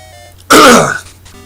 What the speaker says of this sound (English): just had to clear my throat a little bit